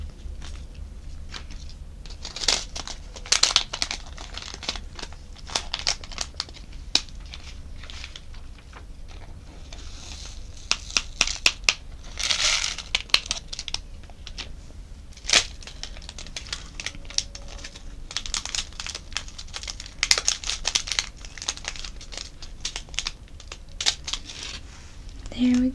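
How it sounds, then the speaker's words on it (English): A small plastic baggie from a diamond painting kit crinkles and rustles as it is closed and taped shut, with scattered close, soft crackles and tape sounds spread over a long quiet stretch. "So we will put them back in the little baggie and then tape it back shut."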